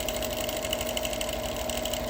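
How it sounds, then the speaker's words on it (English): A sewing machine runs steadily in free-motion quilting of a beach panel, a continuous even whir with a fast needle rhythm, fairly quiet and alone. "So I'm just adding some more, and this is where I'm quilting fairly intuitively."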